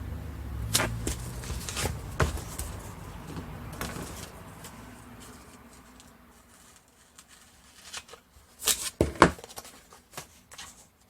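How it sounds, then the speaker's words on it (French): Double-sided sticky tape being pulled and torn in a few sharp rips with soft rustling and handling noises between, close by in a quiet room. "Je vais mettre mon double face."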